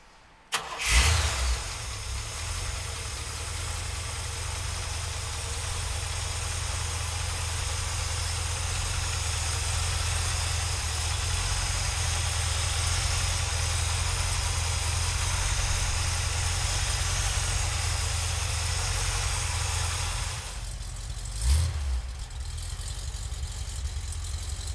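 A 1973 Chevrolet Camaro muscle car cranks and fires up with a sharp burst, then settles into a steady, rumbling idle that holds for about twenty seconds before a brief blip near the end.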